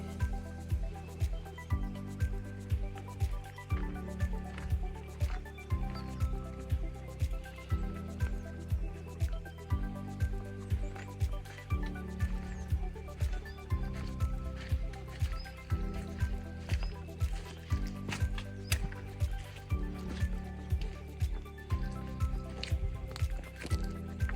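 Steady, rhythmic slurping and gulping of an animal drinking water up close, repeating at regular intervals for a long stretch.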